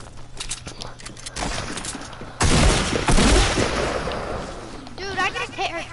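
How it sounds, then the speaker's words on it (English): Rapid gunfire and explosions from a shooting video game, dense bursts of shots and a heavy blast, with players talking over the action. "I was shooting."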